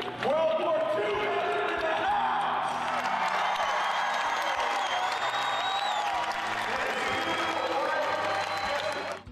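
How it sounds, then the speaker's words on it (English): Loud, sustained applause with cheering and whoops from a crowd honoring a 96-year-old World War II veteran, a dense wash of clapping that fills the room. "How about a big round of applause?"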